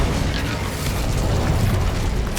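An Incendio fire spell cast in Hogwarts Legacy, a dense whooshing burst of flame with a rumbling roar that runs steadily throughout.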